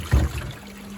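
Rinse water drains from a Beko washing machine running a quicker cotton 60 wash, a short gush and gurgle that quickly fades to a soft trickle, close and fairly quiet.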